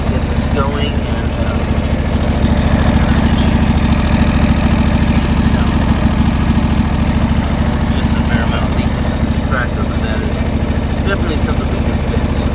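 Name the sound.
Little Bull loader engine running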